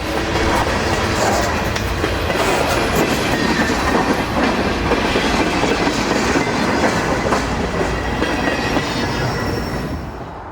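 A Conrail freight train rolls past close by along the Susquehanna River's west branch in Pennsylvania, a loud steady rumble with rhythmic wheel clatter, no voices.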